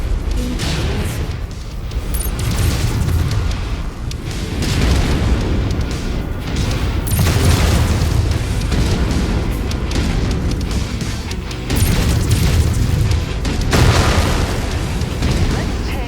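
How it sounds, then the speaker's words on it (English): Incoming missiles hit around a Hunchback mech in MechWarrior 5: Mercenaries, producing loud, continuous rolling booms and blasts that overlap in waves without a break. "Incoming missile."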